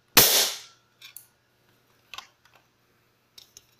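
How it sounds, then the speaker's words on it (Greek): Toy gun firing at an empty Green Cola can, one sharp loud crack with a short ringing tail, followed by a few faint clicks and small knocks. "για ψεύτικο όπλο έχει δύναμη, δεν λέω."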